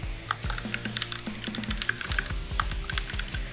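Rapid typing on a computer keyboard, close and fairly loud, with an irregular run of sharp key clicks and a few heavier thumps, entering a Markdown heading in a Python notebook; no voices.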